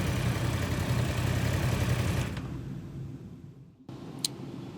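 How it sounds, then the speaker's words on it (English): A car engine idles at a steady, moderately loud rumble, then it is switched off and the noise drops away, leaving a quiet background with a faint click near the end. "Yep, I'm just gonna turn off the engine, sorry, it's just getting a bit loud here"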